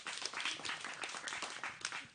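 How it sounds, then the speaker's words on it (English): Audience clapping at a town hall meeting, a brief, fairly quiet patter of hands from a modest crowd lasting about two seconds. "clap for this man"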